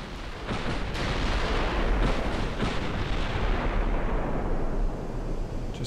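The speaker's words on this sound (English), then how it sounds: "Just imagine the noise of the guns going off if you were on one of these ships." Battleship guns firing broadsides in Ultimate Admiral: Dreadnoughts: a steady, heavy roar of overlapping booms and rumbling blasts, with a few sharper reports early on, loud and continuous without voices.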